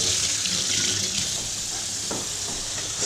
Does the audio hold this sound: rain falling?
no